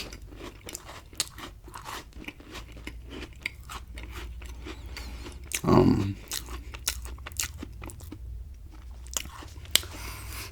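Digestive biscuits are bitten and chewed up close, giving dense, crisp crunching with rapid crackly bursts and one louder bite in the middle, with no talk.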